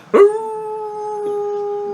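A wolf howls in a fantasy tabletop-style video game: one sharp onset, then a long, steady, clear howl held close and loud with nothing else over it.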